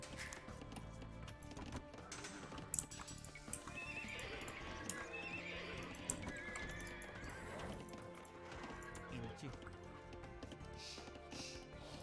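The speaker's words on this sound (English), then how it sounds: "That's me making the horse neigh sound." A horse whinnies amid clip-clopping hooves in the video game Age of Empires II: Definitive Edition, with faint background sounds in a busy, layered mix.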